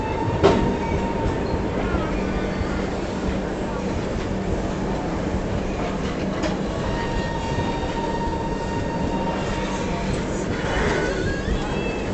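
Yoga Express train departing Ahmedabad Junction, giving a steady, loud rumble of rolling railcars for the whole stretch, with faint squeals and clanks over it.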